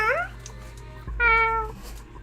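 A person imitates a cat's meow, giving two drawn-out mewing calls, close and clear, over a steady low electrical hum.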